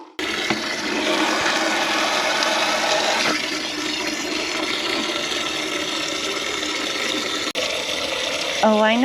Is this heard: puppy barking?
no